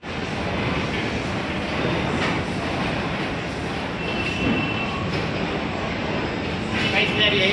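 Busy Moradabad railway station platform ambience, a steady loud wash of crowd noise, trains and machinery rumble with no clear words audible.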